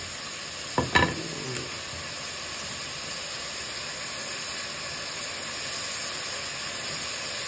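Food for a home-cooked lunch sizzles steadily in a pan, a continuous close hiss of frying with a few brief clinks of a utensil near the start.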